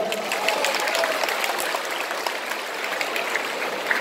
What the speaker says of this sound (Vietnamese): Xin nhờ đại diện cha Luân một tràng pháo tay.